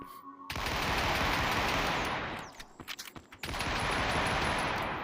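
Sustained rapid video-game gunfire rattles loudly for about two seconds, breaks into a few scattered shots, then resumes as another long, dense automatic burst while weapon recoil is tested.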